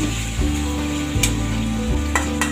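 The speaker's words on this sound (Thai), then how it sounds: "ผัดจนเข้ากันค่ะ เราผัด เราผัดจนเข้ากัน" Pork belly stir-fried in a pan, a loud close sizzle with a low steady hum under it and two or three sharp scraping strokes of the spatula, without any talking.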